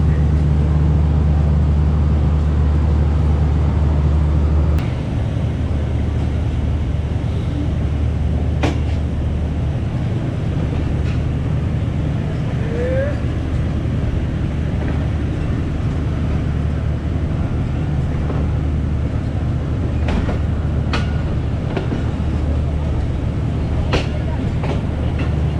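Pakistan Express passenger train running on the Multan to Rawalpindi line, heard from inside: a steady loud rumble of the carriage with rail clatter and occasional sharp clicks throughout, a low tonal hum in the first few seconds.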